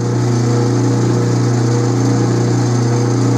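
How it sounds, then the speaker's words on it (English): Lathe taking a heavy cut in stainless steel on a conveyor roller, a loud steady machine drone with a strong low hum holding constant throughout, no talk. "this is a pretty hefty cut in stainless steel, but we're going to let it rip"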